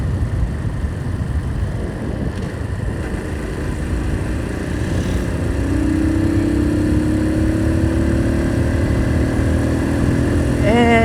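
A warmed-up motorcycle engine runs close by at a steady, loud idle, its even drone rising briefly in pitch near the end.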